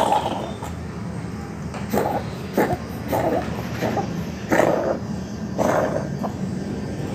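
A cat's short, harsh coughing bursts repeat irregularly, fairly close, over a low steady background hum.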